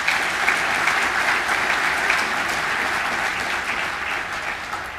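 A convention audience at the 2018 USBC annual meeting claps together in sustained, even applause that stays loud throughout and eases off only slightly at the end.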